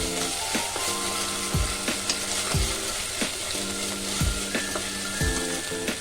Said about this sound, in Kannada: ಈಗ ಇದನ್ನು ಸ್ವಲ್ಪ ಈ ಎಣ್ಣೆ ಜೊತೆ ಫ್ರೈ ಮಾಡ್ಕೊಳ್ಳೋಣ.